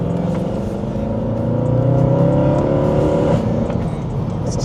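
A Mercedes C63 507 Edition with a big 6.2-litre V8 revs steadily and loudly up close, a deep throaty engine note rising and holding for several seconds with no talk over it.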